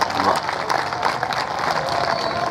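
Audience applause from a crowd at a speech, a steady, dense wash of clapping that stays fairly loud throughout with some voices mixed in.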